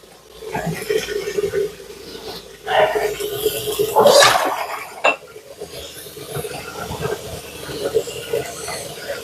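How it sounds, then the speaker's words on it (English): A skillet is washed under a running tap, with a hissing rush of water, clinks and scrapes of metal, and a louder burst of splashing midway, all close by. "Wash my skillet real quick."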